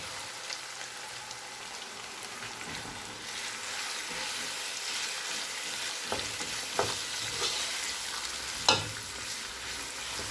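Minced meat fries in ginger garlic paste for keema biryani with a steady, dense sizzle and crackle close by, plus a few louder stirring scrapes near the end; no one speaks.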